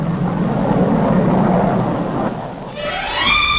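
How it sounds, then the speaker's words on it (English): A 1958 Pan Am jet clipper airliner, the first passenger jet across the Atlantic, roars loudly and steadily in a broad rumbling wash, with a rising whine that climbs toward the end. "The first passenger jet clipper to fly the Atlantic"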